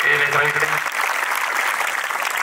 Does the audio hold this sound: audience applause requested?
yes